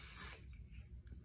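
Hairspray misted onto hair to hold curls, a short quiet aerosol hiss at the start that fades quickly into low background rumble.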